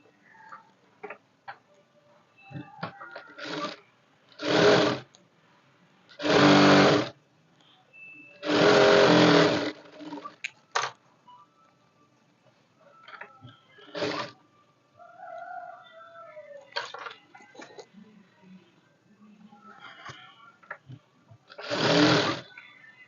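A sewing machine stitches a half-inch seam on a blouse lining in several short whirring bursts separated by pauses, with faint clicks and handling noises in between.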